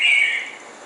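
A single bright bird call rings out briefly outdoors, a clear high chirp that fades quickly into quiet background.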